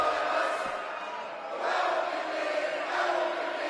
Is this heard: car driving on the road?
no